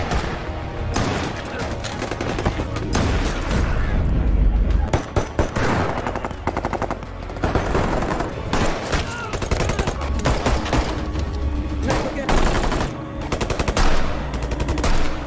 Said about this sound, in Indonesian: Mereka mengeluarkan senjata berat dan bahkan sniper untuk membunuh para polisi.